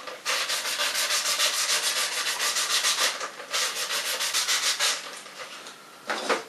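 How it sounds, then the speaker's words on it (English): Steady sanding of the center section of a plastic bottle, a continuous rhythmic scratchy rubbing with back-and-forth strokes, close and fairly loud, with a short pause near the end before a final burst. "Then remove the sleeve and sand the center section of the bottle."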